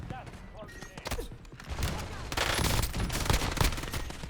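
Turret gunfire in the video game Warzone, with rapid, dense automatic shots that swell louder and continuous in the second half, heard close and without talk.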